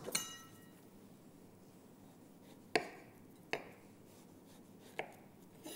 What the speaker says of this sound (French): on va maintenant faire de fines tranches